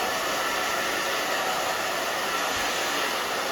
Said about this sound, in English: now we're gonna get started with the blow dryer.